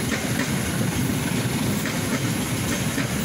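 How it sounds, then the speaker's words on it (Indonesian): A Sancaka passenger train hauled by a CC201 locomotive with stainless steel carriages rolls past at night after leaving Solo Balapan station, a steady loud close rumble and roar with faint wheel clatter throughout. "kereta api Sancaka menggunakan lokomotif CC201 membawa rangkaian kereta api gerbong stainless steel, mulai meninggalkan stasiun Solo Balapan"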